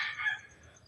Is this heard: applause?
no